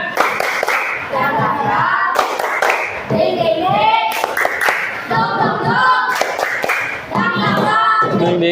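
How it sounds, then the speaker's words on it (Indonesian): A classroom of children in an Indonesian Islamic education lesson performs the tepuk semangat chant, with rhythmic group hand clapping in bursts alongside loud chanting voices, close and lively. "Biar semangat, tepuk semangat lagi yuk. Tepuk semangat."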